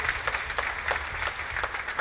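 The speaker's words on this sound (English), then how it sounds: "Can you just clap your hands for those who are here today?" Gala audience clapping their hands, a dense, steady wash of applause from a crowd in a hall, moderately loud and continuous throughout.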